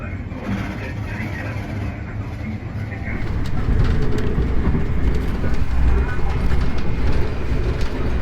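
KA Majapahit economy train pulling out of Malang Kota Lama station, a loud continuous low rumble and rattle of the carriages heard from inside, growing heavier as it gathers speed, with no voices.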